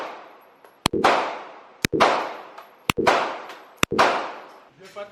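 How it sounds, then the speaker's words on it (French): Pump-action shotgun fired nearby at an outdoor shooting range, four loud booming shots at roughly one-second intervals, each with a long rolling echo and decay. "Il y a un mec qui fait du bruit à côté. Il a un gros fusil à pompe."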